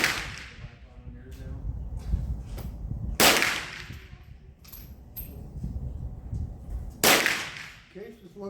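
Swedish Remington rolling block rifle firing cast-bullet reloads outdoors: two loud sharp shots several seconds apart, each with a rolling echo, plus quieter handling clicks and rustling between them.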